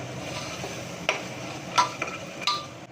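Raw green peas are stirred and fried in a pan with spices, making a soft, steady sizzle punctuated by a few sharp scrapes and clicks of the utensil against the pan.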